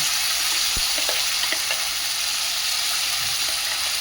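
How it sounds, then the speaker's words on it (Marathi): Ground masala paste hitting a hot pan for a mutton tambda rassa, a steady bright sizzle and crackle with faint stirring scrapes, close and continuous. "अशा प्रकारे इथे आता मी वाटण हे टाकलेलं आहे छान प्रकारे"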